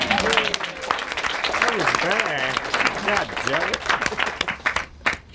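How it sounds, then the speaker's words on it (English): Wedding guests at a reception burst into sustained applause, many hands clapping at close range, while voices cheer and call out over the clapping before it fades near the end. "Have a second round of applause for that"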